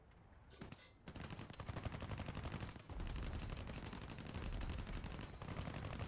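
Aircraft guns firing at a runway in the video game War Thunder: continuous loud, rapid automatic fire that runs almost unbroken after a brief initial burst.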